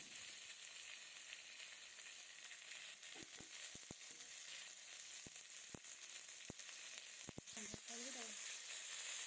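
Potato pieces with salt and turmeric fry in a pan, a steady close sizzle with several sharp scrapes and clicks of stirring scattered through, no talking.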